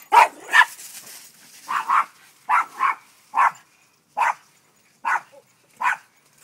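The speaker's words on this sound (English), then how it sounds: "You dumb dogs." A dog barks repeatedly at a loose, irregular pace, sometimes in quick pairs, fairly close with quiet gaps between barks.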